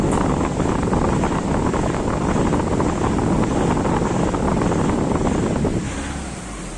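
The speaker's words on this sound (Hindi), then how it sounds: "रेस करने पे भी स्मूथली रेस नहीं होती। देखो रेस करने पे भी ऐसे बुम बुम बुम करके रेस होती है।" Engine of a Volkswagen Vento with an injector misfire, revving loudly and unevenly in a steady rough roar with a thudding pulse, close up, easing off near the end; no talk.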